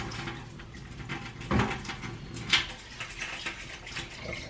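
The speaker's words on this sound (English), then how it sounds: "Let me just quickly wash my hands." Tap water runs in a sink during a quick hand wash, a soft, close splashing with a couple of brief louder gushes and faint knocks, without talk.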